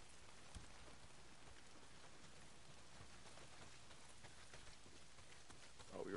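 Heavy rain pouring down in the open-world video game Days Gone: a dense, even hiss of drops striking surfaces, steady and unbroken throughout.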